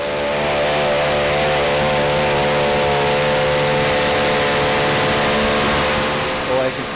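A pulling tractor at the 2016 Eurocup Tractor Pulling finals in Brande, Denmark, its engine holding a loud, steady, droning roar close by that rises slightly, then drops away near the end.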